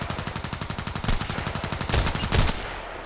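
Rapid gunfire in a video game sniper mission with an SVD-S rifle, a fast rhythmic string of sharp cracks at steady pace, with two heavier blasts near the end, loud and close with no talk.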